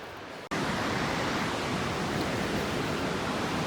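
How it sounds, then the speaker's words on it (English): A mountain river near the Mt Robson Visitor Centre in the Rockies rushes in a dense, steady roar, loud and continuous after a brief quieter moment at the start. "it's nice to hear the river. It's soothing and nice to hear that sound"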